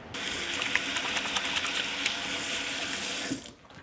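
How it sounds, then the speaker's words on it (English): Tap water pouring into a sink for a quick handwash, a loud, steady close rush of water that stops abruptly near the end. "So now I'm going inside and then quickly wash my hands."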